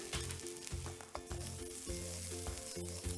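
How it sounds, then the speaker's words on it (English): Finely chopped capsicum fries with crispy corn in a pan, a close, bright continuous sizzle with rhythmic low rumbling pulses from stirring and tossing, no voices. "This is one medium sized capsicum which I have chopped fine. We will add it in and fry really well."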